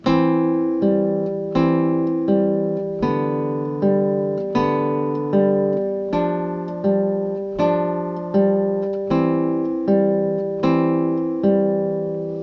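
Classical guitar plays the opening two measures of Carcassi's Andantino, a steady fingerpicked pattern of plucked notes with regular attacks that ring and decay, played alone at moderate volume with no talking.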